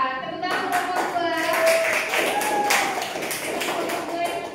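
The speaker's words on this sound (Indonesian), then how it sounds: "Tepuk tangan untuk kelompok 2." A group of people, apparently schoolchildren in a classroom, claps for a group in a steady burst of applause, while voices talk and call out over it.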